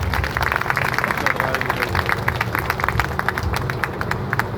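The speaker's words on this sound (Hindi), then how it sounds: "तो ऐसी महिलाओं और ऐसे तंत्र के लिए जोरदार तालियां।" A protest crowd in the open at Jantar Mantar applauds, loose clapping from many hands spread through the scene and fairly close, with crowd babble, voices and street noise mixed in beneath.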